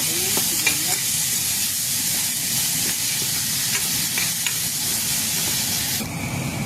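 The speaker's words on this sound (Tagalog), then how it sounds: "Ilagay natin yung sibuyas." Chopped onion sizzles loudly in hot oil already seasoned with mustard seed, chili and garlic, a steady close hiss with light stirring clinks throughout.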